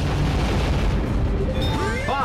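A smart bomb detonates in Star Fox Assault with a dense, continuous roar of blast energy, followed by rising and falling whooshing sweeps as it clears the area; loud throughout.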